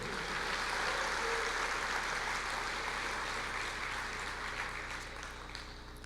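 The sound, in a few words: congregation applauding in church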